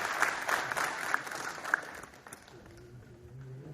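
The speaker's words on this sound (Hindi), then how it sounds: "आप लोग खुद के लिए ताली बजाइए।" At a club's 50th-anniversary celebration, the audience claps for themselves: a quiet, crowded patter of applause that thins out after a couple of seconds as a voice begins speaking over the fading claps.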